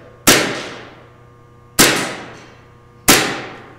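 An airsoft gas blowback pistol fires three sharp, loud shots about one and a half seconds apart, each a crisp crack with a quick hissing decay, close up with no talking.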